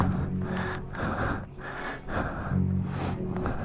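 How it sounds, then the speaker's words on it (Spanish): Heavy, rapid breathing up close from a frightened person during a motorcycle police stop in Brazil: repeated harsh inhales and exhales in a steady rhythm, strained and panicked-sounding, with no talking. "Ahí se siente la respiración, chabón, que está asustado."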